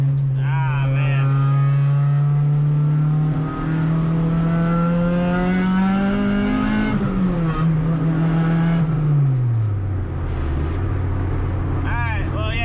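Acura RSX with a naturally aspirated K20A3 engine cruising a backroad, steady engine drone heard from inside the cabin that rises as it accelerates, then drops as it shifts down, with someone talking over it.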